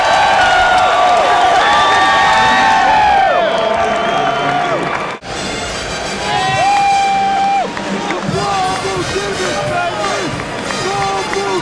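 A sold-out arena crowd outside Chicago roars and cheers at a DePaul versus Kansas college basketball game, a loud sustained din with whoops and shouts that dips briefly midway, then swells again with scattered yells.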